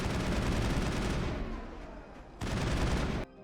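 Shotgun blasts in the Mass Effect video game, a dense run of loud overlapping booms that fades out and then returns in a short final burst before cutting off.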